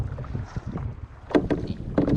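Paddle strokes from a Pescador Pilot 12 kayak splash and drip near the microphone, a few irregular dips with light wind noise over the water.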